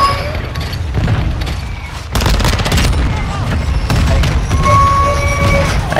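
Gunfire in Call of Duty: Modern Warfare II, a dense run of loud automatic bursts and booming shots that are close and relentless, with a player talking over the fight.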